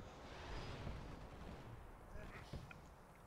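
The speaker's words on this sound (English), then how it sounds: "Oh, explosions." A dense rumble of distant blasts and booms from the video game Halo: Spartan Assault rolls on continuously, with a few sharper bangs standing out near the end.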